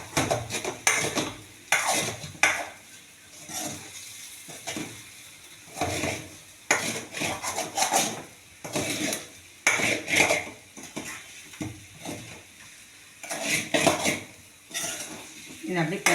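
Taro pieces stirred and roasted in a pan: repeated scraping and clattering strokes of a utensil against the pan come in irregular bursts, with a light sizzle underneath and brief talk at moments.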